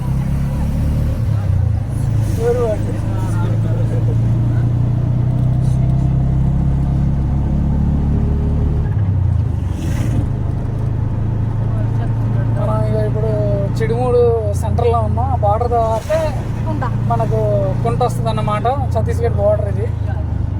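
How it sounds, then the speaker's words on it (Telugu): A bus travelling by road between Bhadrachalam and Konta gives a continuous low engine rumble with road noise, heard from inside under intermittent voices talking. "బస్సు మాత్రం ఆగనే ఆగట్లేదు"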